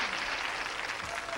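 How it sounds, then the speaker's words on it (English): Studio audience applause on a television game show, steady dense clapping throughout at even loudness, close and filling the room, with no talk over it. "a nice round of applause for Adeline"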